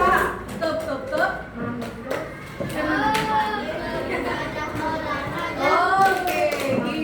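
Schoolchildren chant the tepuk 7 KAIH clapping yel in a classroom, voices rising together with bursts of rhythmic hand claps between the lines.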